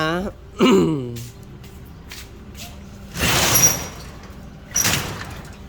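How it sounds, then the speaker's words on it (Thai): A door slides and shuts with two rough scraping bursts, the second ending in a sharp click like a latch or lock, after someone speaks briefly at the start. "แล้วก็ต้องปิดประตูให้แม่ปุ้ยด้วยนะคะ"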